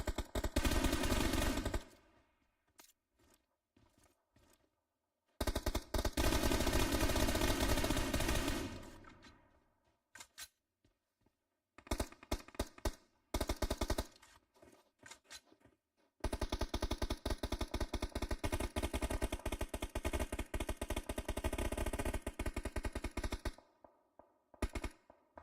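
Automatic gunfire in a battle royale game during an esports qualifier match comes in long, loud bursts of rapid shots separated by short silences, with no talk over it.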